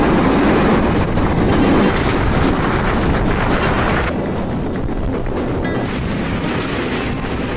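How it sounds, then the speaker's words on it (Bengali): The Kapotaksha intercity express runs from Rajshahi to Khulna, heard from inside a carriage as a loud, continuous rumble of wheels on rails with steady clatter and no voices. "মধ্যে দিয়ে আমাদের ট্রেন ছুটে চলছে।"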